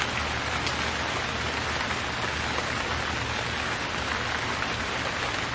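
Heavy, cold rain pours down in a dense, unbroken hiss of drops striking surfaces, steady and loud from start to finish with no voices.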